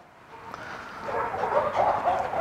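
Several dogs meeting as another dog is let into the group, giving soft yips and whimpers that grow busier and louder in the second half, with no talk over them.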